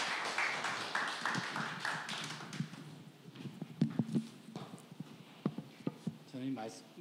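A church audience claps to welcome a pastor to the pulpit, a fairly faint, continuous patter of scattered hand claps that thins out into sparse individual claps.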